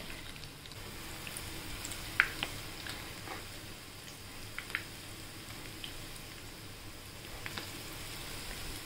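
Small pieces of green gram batter dropped into hot oil sizzle and fry steadily, a soft continuous crackle with a few sharper pops near the start and middle, quiet and close with no talking.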